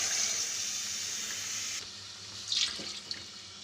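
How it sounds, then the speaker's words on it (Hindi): A glass of water pours steadily into a pot of chicken and chickpeas with a hissing splash, then stops, followed by a few faint clinks. "1 गिलास पानी का डाल देंगे।"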